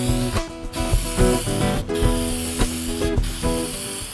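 Clear coat is sprayed from an aerosol can onto a painted skateboard in short hissing bursts, close and fairly loud, with no talk.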